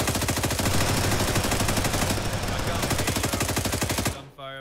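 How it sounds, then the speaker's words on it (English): Sustained machine gun fire in the video game ArmA 3, a loud, dense, rapid string of shots lasting about four seconds before cutting off abruptly, followed by quieter background sound. "Gunfire above us."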